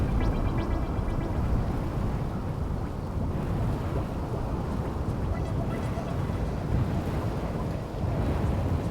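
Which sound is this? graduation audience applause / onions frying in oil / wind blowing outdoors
wind blowing outdoors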